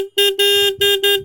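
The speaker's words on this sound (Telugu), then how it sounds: "హార్న్ ఎలా ఉందో వింద్రో ఒకసారి" Horn of a KTM Duke 160 motorcycle, loud and close: several sharp honks in quick succession, one held longer than the others, with brief gaps between them.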